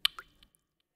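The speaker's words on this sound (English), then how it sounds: "A drop of water kisses your forehead, followed by another" Single water drops fall and plop, a sharp close drip followed by a second softer one and a faint tiny tap, then silence, each drop isolated and crisp.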